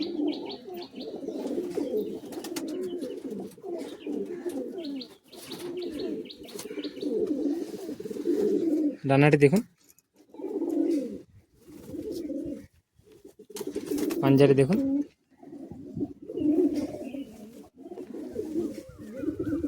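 Madrasi high-flying pigeons coo repeatedly in close, steady throaty phrases with brief pauses between them, while someone speaks over the birds at intervals.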